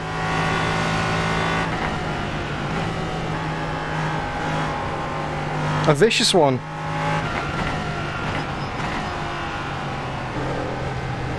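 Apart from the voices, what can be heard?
LMP3 race car traction control bogging engine, iRacing video game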